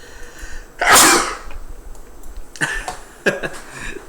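One loud, explosive human sneeze bursts out close to the microphone, followed by a few quieter breathy sniffs and small sounds in an otherwise quiet room.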